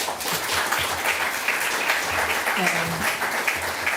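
An audience gives warm applause at a panel event on justice in Syria, a dense, steady patter of many hands clapping, with a voice briefly audible underneath.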